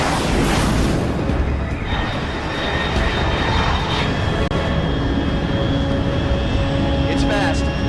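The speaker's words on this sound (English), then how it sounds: "unidentified aircraft detected." A very fast aircraft passes high overhead at around 30,000 feet in the stealth action game Metal Gear Solid Delta: Snake Eater, a steady broad engine roar that stays loud throughout, with game music tones and radio-style voices over it.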